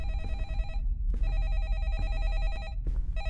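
A ringing telephone inside a horror game chirps in rapid electronic trills, with two brief gaps, while a low ambient hum runs continuously underneath.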